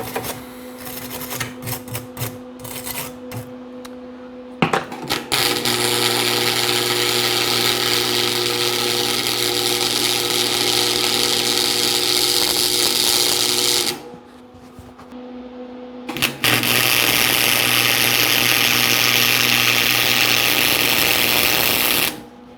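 MIG welding on a 1956 Volkswagen Beetle oval-window ragtop, fusing a kafer bar in place: two long, steady buzzing crackling runs, close and loud, separated by a short pause, with a brief sputtering start beforehand.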